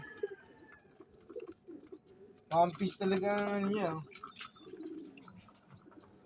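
A derby racing pigeon gives soft coos and small chirps close by, mostly under and between someone talking in Filipino.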